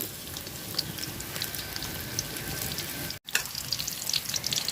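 Chopped onion and garlic frying in hot oil with whole garam masala, giving a steady, dense crackling sizzle that continues almost unbroken throughout.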